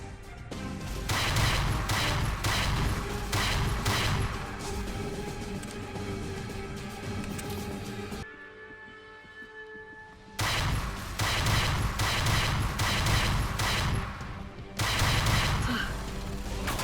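Pistol fire in a modded Fallout game, with bursts of rapid, loud gunshots and impacts in dense clusters, broken by a short quieter lull with a tonal hum before the shooting resumes.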